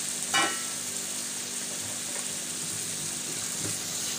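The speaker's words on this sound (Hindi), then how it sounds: "मिक्स करेंगे और अब इसकी अच्छे से हम करेंगे भुनाई" Thickened milk and carrot halwa being stirred and roasted in a pan, a low steady sizzle with occasional spoon scrapes and a short knock near the start, heard up close.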